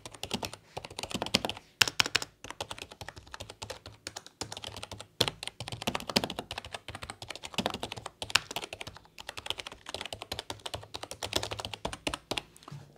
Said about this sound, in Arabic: غنشوفوا الساوند ديال الكيبورد